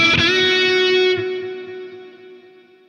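An electric guitar played through an AmpliTube 5 lead patch with delay, reverb and a noise gate rings out as one sustained distorted note after a sharp attack, its echoing tail fading steadily toward silence.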